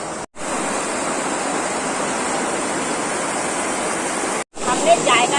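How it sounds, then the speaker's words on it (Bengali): Loud rushing river water along a bank in the Sundarbans, a dense, constant roar heard up close, cutting out briefly twice, with faint sounds near the end. "এত আওয়াজ হচ্ছে, পুরো জল এখানে যাচ্ছে।"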